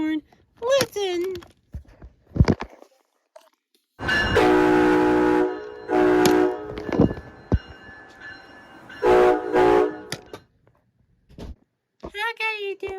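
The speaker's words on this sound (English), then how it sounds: "They literally have a K-5 air horn." A K-5 air horn on an ACS-64 electric locomotive blasts in several long, loud chord-like sounds with gaps between them, alongside rail noise and short bursts of speech around the horn calls.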